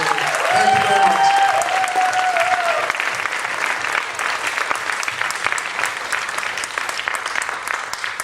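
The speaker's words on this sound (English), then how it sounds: "So I want to give her a round of applause" A church congregation at a Sunday service applauding, sustained, dense clapping from a full room that carries on steadily throughout, with a brief sung or spoken tone near the start.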